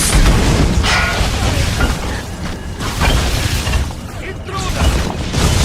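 Stupefy spell effect from the Harry Potter Deathly Hallows video game, a string of punchy magical bursts and booms over constant battle noise, with voices shouting between the hits.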